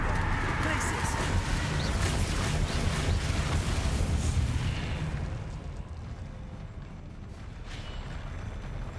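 A Confringo fire spell bursts in Hogwarts Legacy, a loud roaring blast sustained for several seconds before fading into a quieter rumble, with a voice calling out over the start.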